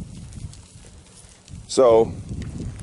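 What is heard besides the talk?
goat walking in its feed pan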